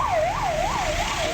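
An ambulance siren wails on a potholed, damaged road in the Nilgiris, a rising and falling tone repeating steadily at moderate loudness over faint road rumble.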